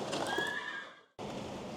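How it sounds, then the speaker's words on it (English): A horse whinnies loudly and close for about a second, the call fading away before a sharp cut into steady background noise that sounds like rain. "What a handsome looking horse."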